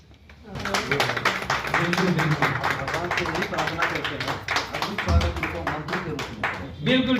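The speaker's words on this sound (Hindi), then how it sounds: "एक बार जोरदार ताली" Loud, continuous audience applause greets guests at a welcome ceremony in Darbhanga, dense hand-clapping sustained for several seconds with voices mixed in beneath it.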